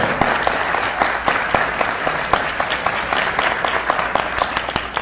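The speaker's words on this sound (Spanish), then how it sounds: "yo les pido un aplauso de todos ustedes para los que nos están escuchando" A studio audience at a radio program applauds continuously, dense clapping from many hands filling the room at a steady, fairly loud level throughout.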